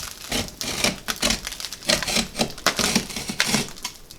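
A sharp utility knife slices through drywall tape and compound at a cracked inside wall corner, a close run of dry scraping and crackling strokes in quick irregular bursts.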